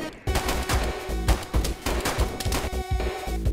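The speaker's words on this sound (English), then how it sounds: "I'm shooting at him!" Rapid bursts of gunfire in the DayZ console video game, loud, dense and close, with shots overlapping in a fast, continuous barrage.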